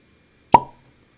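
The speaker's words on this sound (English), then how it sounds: "So pause for cork pop." A cork pops from a Four Roses bourbon bottle with one sharp, hollow plop that rings briefly and dies away, heard alone against near silence.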